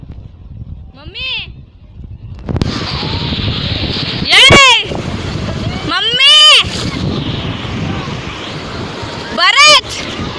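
Surf rolls in steadily on a beach, a loud and continuous wash of waves, while people shout and call out over it.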